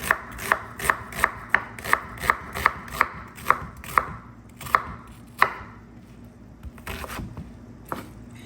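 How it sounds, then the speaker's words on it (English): A knife cross-chopping mushrooms on a cutting board for mushroom masala: a steady run of about a dozen crisp, close chops at a brisk, even rhythm, thinning out into a few scattered knocks near the end. "I'm just going to do a cross chop in there."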